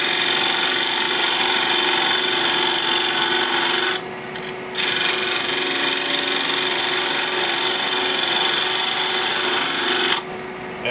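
Continuous loud scraping hiss of a 1/2 inch Ellsworth grind gouge cutting spinning wood on a lathe while the bevel rubs, broken by two brief pauses, one near the middle and one near the end. No one talks.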